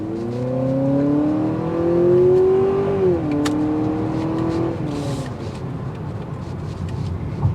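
A 2024 Honda Accord Sport L Hybrid pulls hard on a test drive, its engine drone climbing steadily in pitch, dipping briefly as it shifts, then rising again before easing into a quieter road hum.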